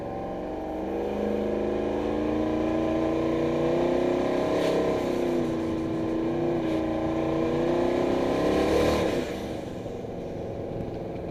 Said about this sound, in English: you can hear a compressor surge the minute I let out